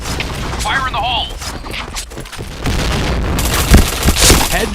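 In an online shooter game, a grenade goes off with heavy booming blasts amid the continuous clatter of gameplay, while players talk over it.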